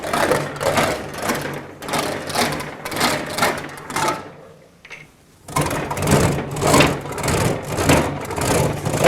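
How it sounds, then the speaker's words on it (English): A sheet metal café racer fender rolls back and forth through an English wheel with light pressure, a rhythmic rumbling swoosh repeating in steady passes and pausing briefly halfway before resuming. "I'm not putting hardly any pressure on the wheel. We're just trying to smooth everything out"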